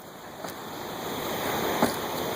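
Steady rushing surf and water at a beach, a continuous broadband wash with a few faint knocks and no talk over it.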